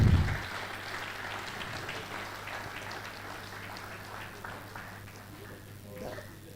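A seated audience claps at a valedictory ceremony, the applause starting with a loud onset and then thinning to a lighter, sustained patter over several seconds, with faint voices mixed in and a constant low hum.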